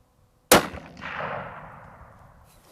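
A single sharp rifle shot from a factory Bergara rifle at a shooting range cracks loudly after a brief silence, followed by a long, fading echo.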